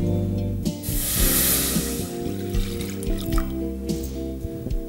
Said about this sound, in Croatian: Prvo stavimo mlijeko da zakuha u lonac.